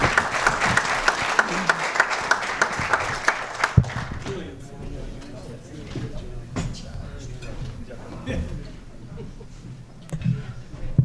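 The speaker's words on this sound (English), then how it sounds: "Let's give them a huge round of applause for giving up their time." Audience applause at a Chamber of Commerce gathering: a dense burst of clapping from a crowd for several seconds, then fading as a speaker talks over the room.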